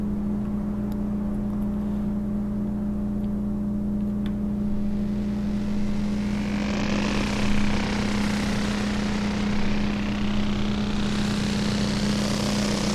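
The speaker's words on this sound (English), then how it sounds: "That's a motorcycle." A motorcycle engine in the Xenogears video game drones steadily over a sustained tonal game soundtrack, with a rising and falling whine from the passing engine in the later part.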